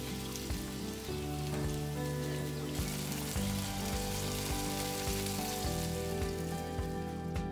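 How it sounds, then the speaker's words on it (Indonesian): Two cups of water hit a hot oily pot during cooking of Malaysian nasi minyak with pandan leaves, producing a loud, continuous hiss and bubbling sizzle that stays dense and close throughout, with no talking. "Dan tambahkan 2 cawan air."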